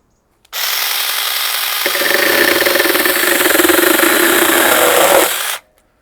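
A battery-powered 6 inch mini chainsaw whirs up to a steady high-pitched buzz, then bites into wood with a rougher, grinding cutting tone that runs for about four seconds before the motor cuts off abruptly. No one talks over it.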